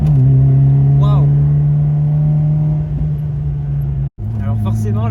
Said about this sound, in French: Mais là on entend pas mal le bruit du moteur, hein.